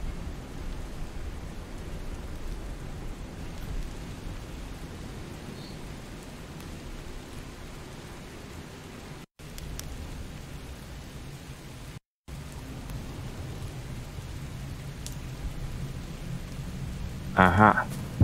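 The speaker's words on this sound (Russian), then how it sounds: "какой-то арктический шторм начинается" Arctic thunderstorm with rain in the video game Expedition Zero, a steady broadband rain wash with low rumbling throughout, briefly cut out twice, and a short louder burst near the end.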